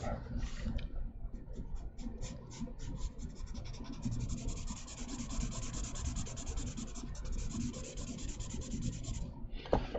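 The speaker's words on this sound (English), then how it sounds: "Notice I'm really scrubbing the daylights out of this thing to really get it to kind of blend nicely" A pencil or pastel is scrubbed rapidly back and forth, shading an automobile instrument panel sketch on paper, a close continuous rhythmic rubbing with quick short strokes and no talking.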